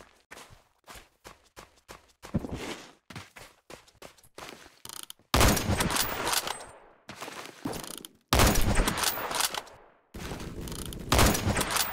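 Gunfire in a Roblox video game: rapid bursts of automatic shots at first, then loud, dense sustained volleys separated by brief silences, close and forceful, with no talk.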